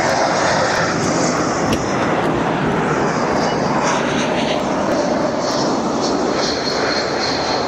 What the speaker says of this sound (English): And that I'm sure is the Airbus A320.